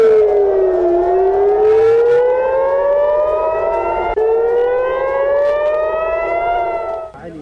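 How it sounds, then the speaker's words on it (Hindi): Air raid sirens wailing over Israeli cities during an Iranian missile attack at night, a loud sustained rising and falling tone with layered harmonics, two overlapping sweeps, continuous and steady before cutting off. "इजराइल के कई शहरों में रात से ही सायरन की आवाज सुनी जा सकती है।"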